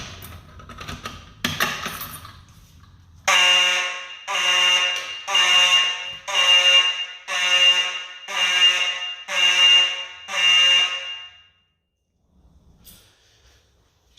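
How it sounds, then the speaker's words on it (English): A Simplex 30 candela electromechanical horn strobe fire alarm blares in eight loud, evenly spaced harsh blasts after some brief clatter, then falls silent with a faint rustle at the end. "Then we have a Simplex 493 9215 30 candela electromechanical horn strobe"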